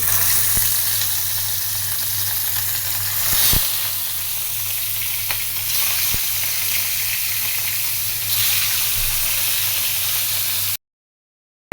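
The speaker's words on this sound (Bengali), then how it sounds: "এখন মাছটা ভেজে নেব।" Pieces of rui fish fry in oil in a pan, giving a steady, close sizzle with occasional crackles and pops before cutting to silence at the end.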